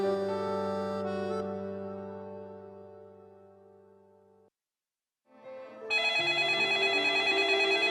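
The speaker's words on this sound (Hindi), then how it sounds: "अभी फोन आ रहा है, देखो।" Telephone ringing in a home, a steady harmonic ring that fades out, then after a short pause a brighter, busier ringtone starts up loud and continuous, with no talk over it.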